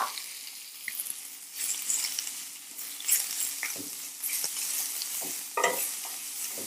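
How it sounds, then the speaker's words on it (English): Ground beef hits an oiled pan and fries with a close, crackling sizzle, broken by irregular scraping and stirring clatters against the pan. "we're going to add a little bit of oil. And we're just going to throw the beef right in."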